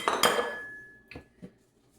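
Kitchen bowls being taken out, a quick clatter of two close clinks followed by a ringing tone and a couple of softer knocks as they are set down, with no talk.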